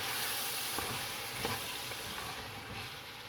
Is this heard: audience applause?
no